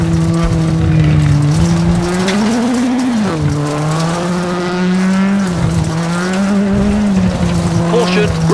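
A rally car in the video game WRC 7 FIA World Rally Championship. Its engine drones loudly and steadily, its pitch rising and dipping with the gear changes, and tyres scrabble faintly beneath.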